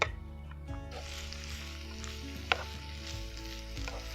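Onions sizzling in oil on a grill top, a quiet, steady frying crackle under a low mechanical hum, with an occasional sharper tap.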